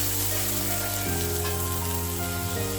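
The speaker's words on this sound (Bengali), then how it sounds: "এখন মশলাগুলো ভালোভাবে কষিয়ে নেব।" Ground chili, turmeric and coriander powder with salt fry in a hot pan for a shrimp and Malabar spinach dish, a steady close sizzle with faint steady hum beneath and no voices.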